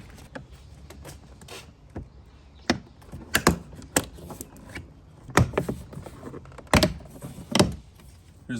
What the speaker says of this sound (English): we're going to go ahead and pry this trim off here